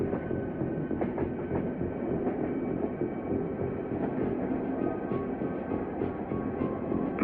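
A train rolls along in a Star Fox fan cartoon, a steady, dense rumble with faint rhythmic clatter, continuous and without voices.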